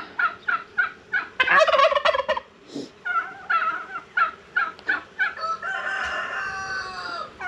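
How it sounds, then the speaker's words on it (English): Several of a neighbor's turkeys gobble loudly nearby across a fence in rapid, overlapping rattling bursts, calling back and forth. "The neighbor's turkeys don't like me on the other side of the fence."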